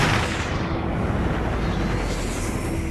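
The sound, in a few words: bomb explosion in the video game Sniper 3D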